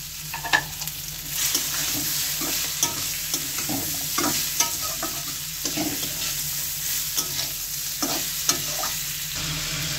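Bitter gourd pieces frying with ground cumin in a pan, stirred continually: a steady hiss of frying sits beneath frequent scraping and tapping spatula strokes, close and fairly loud, with no talking.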